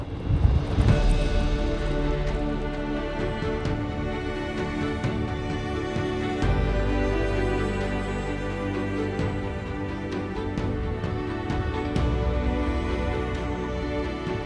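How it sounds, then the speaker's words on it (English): Cold winter wind gusting in freezing Finland at about minus ten degrees, buffeting the microphone in loud, sustained rushes with strong low roaring bursts throughout. "Wind is picking up."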